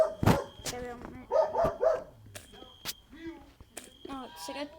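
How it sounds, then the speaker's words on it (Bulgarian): Barks and yips from a nearby dog break out repeatedly in short irregular bursts over a game soundtrack and talk. "Сега чувате някакво си куче."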